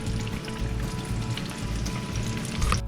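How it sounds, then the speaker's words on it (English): Fish sizzles steadily in hot grease at 350 degrees, a dense, close crackle and hiss that holds at an even level and swells slightly near the end. "Ain't nothing prettier than a piece of fried fish going in that hot grease."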